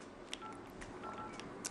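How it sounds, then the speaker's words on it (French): Mobile phone keypad dialing tones while a call is placed, a few short beeps over a steady hiss of background noise, fairly faint and close. "si j'établis une communication téléphonique"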